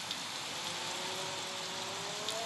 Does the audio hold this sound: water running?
no